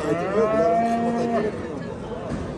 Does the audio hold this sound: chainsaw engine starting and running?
no